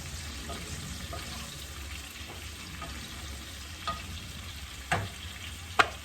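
Pakoras bubble in hot oil with a quiet, continuous frying hiss, joined near the end by two brief sharp clinks of a utensil.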